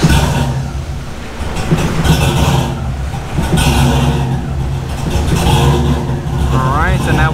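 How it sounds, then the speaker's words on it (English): A Honda with a swapped LS1 V8 engine runs at idle, a loud steady rumble with radiator fans whirring, while someone talks nearby throughout. "The fan is on in the front because I just had the car idling."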